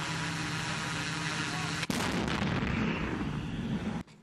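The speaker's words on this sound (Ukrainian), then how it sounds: "Українські десантники відпрацьовують застосування американських та британських гранатометів в умовах, наближених до бойових." American and British grenade launchers fire during Ukrainian paratrooper training in near-combat conditions: a steady loud roar broken by one sharp blast partway through and a sudden cutoff near the end.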